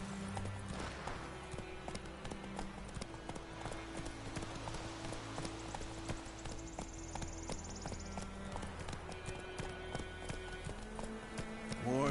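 Roach, the horse in the video game The Witcher 3, clip-clops in a steady rhythmic gait over a low droning musical score, hoofbeats moderately close and evenly spaced throughout.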